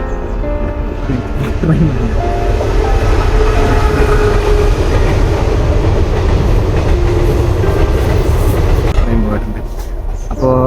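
A train rumbles past close by, a steady loud roar with rhythmic clatter of wheels on rails that eases off near the end.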